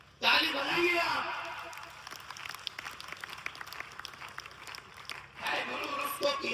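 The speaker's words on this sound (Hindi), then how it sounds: "ताली बजाइए आप" An audience claps at a Hindi poetry recital, a burst of applause swelling, thinning into scattered claps and returning near the end, with a voice speaking over it.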